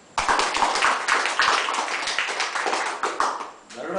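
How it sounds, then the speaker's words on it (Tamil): An audience at a Tamil talk on health and the mind breaks into brief clapping, a burst of several close, sharp claps that dies away after a few seconds as a voice resumes. "கைத்தட்டு."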